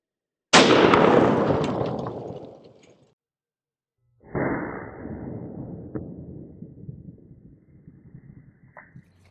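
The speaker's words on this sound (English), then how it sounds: "When I shot it, I was convinced it penetrated." Two loud gunshots fired at level IIIA lightweight body armor, the first a sharp blast with a long decaying tail, the second after a pause of a few seconds, slightly softer and trailing off into a fading echo.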